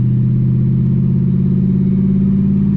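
A six-speed manual car's engine drones loudly and close at a fairly steady pitch, a constant hum with a slight rise and no clear gear change.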